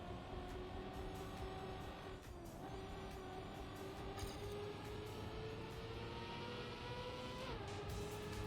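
A race car in Trackmania drifts with a steady, high engine tone that bends in pitch during the slide, sustained and fairly quiet with no voices.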